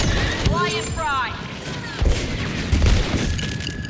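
Flashbang grenades burst in a Star Wars Battlefront 2 match, heavy booms and blasts mixed with game effects and laser-like whines over a dense, busy background, with a couple of harder hits standing out.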